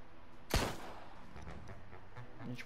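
Gunfire in the video game Empire of Sin: one sharp, loud shot bursts out near the start and decays over a low, steady game ambience, with faint thumps near the end.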